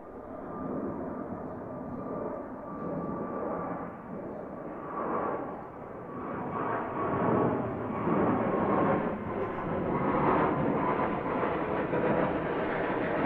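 An American Airlines Boeing 777-200ER takes off from runway 09R at Heathrow, a broad jet roar that builds steadily and rises in pitch over thirteen seconds, heard from a distance without talk.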